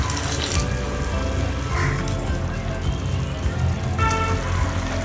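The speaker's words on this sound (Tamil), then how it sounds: "அதனால் இன்னும் கொஞ்சம் தண்ணி சேர்த்துக்கலாம்." Water splashes and pours steadily into a pan of prawn gravy, a continuous watery rush with faint clinks, no voices.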